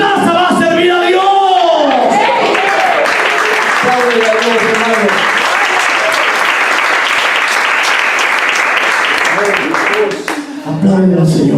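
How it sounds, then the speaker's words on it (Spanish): A church congregation applauds loudly and continuously during a worship service, a dense, close wash of clapping mixed with crowd voices and shouts, a preacher's voice heard at the start and end. "Aplaude al Señor."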